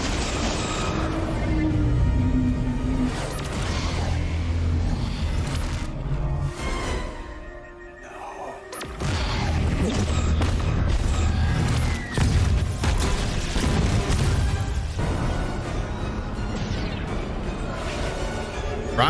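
Starship weapons fire and explosions from Star Trek: Picard, a dense, loud barrage of booms and crashes with rumbling low end, briefly easing before the onslaught resumes.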